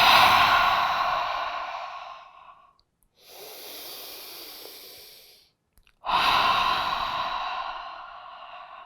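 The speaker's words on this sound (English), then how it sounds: "inhaling through the nose, big exhale out the mouth" Slow cleansing breaths during a yoga class for mental clarity: a long inhale through the nose and a big exhale out the mouth, repeated in three close, clear breathy sighs with short pauses between.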